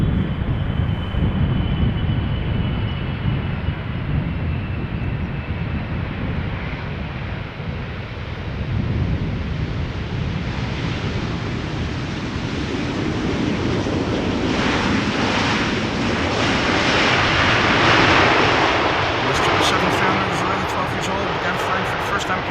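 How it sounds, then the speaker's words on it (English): A Qatar Airways Boeing 777-300 arrives at Schiphol Airport from Doha. Steady broadband jet roar blends with outdoor wind and swells louder toward the end. "Qatar flight 275, 777-300 arriving from Doha"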